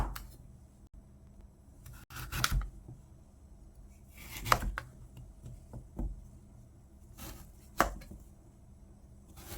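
A knife slices burdock root for kimchi in a few bursts of cutting strokes on a board, brief clustered chops with quiet pauses between them, close and fairly faint, with no talking.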